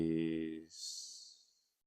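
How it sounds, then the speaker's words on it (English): A long, deep meditative exhale follows a brief calm voice: a soft, breathy rush of air that swells and then tapers away to silence. "Take one final deep breath in, hold, and release."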